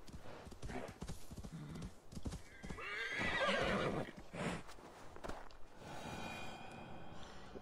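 A horse in the video game Assassin's Creed Valhalla clip-clops along with close hoofbeats and lets out a loud whinny and snorts midway, over a busy game soundscape.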